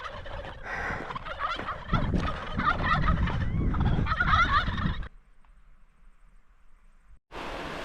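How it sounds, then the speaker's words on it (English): A flock of wild turkeys gobbles on a riverside track in the Ruahine Ranges, New Zealand, a loud, dense chorus of overlapping calls for about five seconds, then near silence before the gobbling resumes. "Got a whole bunch of turkeys here."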